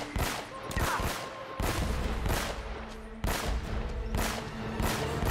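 Repeated heavy shotgun blasts in Uncharted: Drake's Fortune, with booming shots in bursts roughly every second and a half over a continuous rumbling game soundscape.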